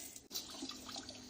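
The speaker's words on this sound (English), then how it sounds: "as I see the water splashing on that lid" Quiet spray of water from a bidet toilet wash splashing against the lid, a soft continuous patter with small splashy bursts.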